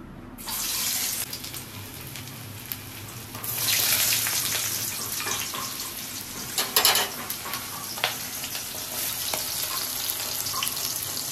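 An egg frying in a pan for fried rice gives a broad hissing sizzle that swells and fades, with running tap water and kitchen clatter mixed in and a few sharp clicks, no talking.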